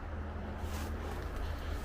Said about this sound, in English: All that noise is the road right there.